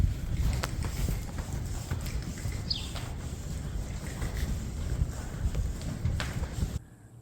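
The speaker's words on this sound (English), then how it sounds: "riding horseback through the Sahara Desert" Horse hooves thud in an irregular rhythm during a horseback ride across the Sahara Desert in Morocco, partly buried under heavy wind rumble on the microphone, before the sound drops off abruptly at the end.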